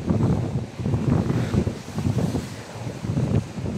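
Big sea waves surging and breaking against Mangodlong Rock in the Camotes Islands, a steady loud wash of surf with gusting wind buffeting the microphone throughout.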